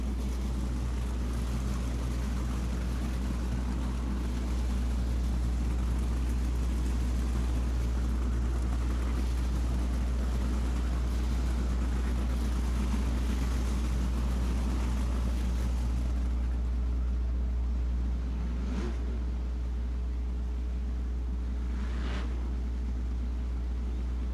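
Sprint cars of the Western Sprint Tour race at Sunset Speedway Park, their engines merging into a steady, distant droning roar that hangs under the scene with little change.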